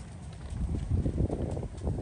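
Hooves of a Tennessee Walking Horse or Missouri Fox Trotter thud in a steady, close walking rhythm over windy outdoor noise, with no talking.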